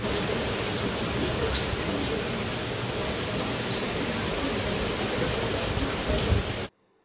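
Heavy rain pouring down on an open rooftop, a dense, loud, continuous hiss of falling water close around that cuts off abruptly near the end.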